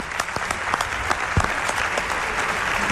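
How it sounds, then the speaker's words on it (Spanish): A studio audience at a television talk show gives steady, dense applause for a doctor, with the clapping continuous and fairly close throughout. "Un aplauso para él"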